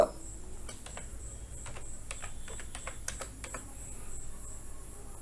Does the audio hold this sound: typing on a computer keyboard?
yes